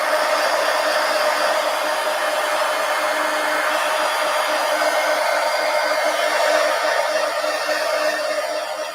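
A hair dryer blows steadily over wet red paint on a napkin journal page in a traveler's notebook, a loud, continuous close-up whoosh lasting throughout with no talking.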